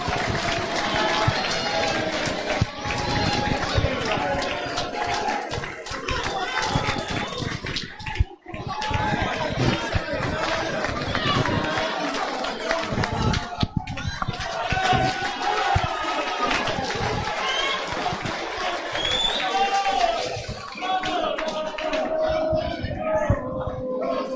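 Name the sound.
boxing crowd reacting after fight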